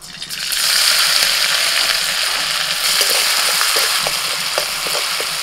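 Chopped ginger, garlic and green chilli with cumin seeds fry in mustard oil, a loud, steady broadband sizzle close by with faint scraping clicks of stirring, no voices.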